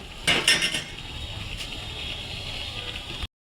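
A utensil scrapes and clinks against a pan as prawn pickle is stirred slowly, with a few sharp metallic knocks at first and then a quieter, steady cooking background.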